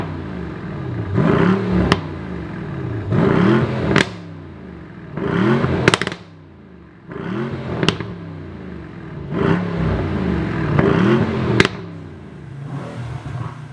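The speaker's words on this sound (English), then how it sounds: "That is an S-Class making that noise." A Mercedes-AMG S63 in Sport Plus mode revved hard six times in a steady rhythm, each blip rising quickly to a loud roar and dropping back sharply with crackles between, recorded up close with no talking.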